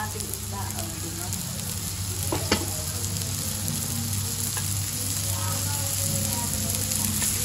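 Hasa-hasa fish sautés with ginger in a pan, giving a steady, dense sizzle with an occasional light clack of a utensil against the pan; no talking over it.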